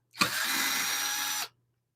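A power drill backs a square-drive screw out of a woodturning lathe faceplate: one close, steady whir lasting just over a second, starting and stopping abruptly.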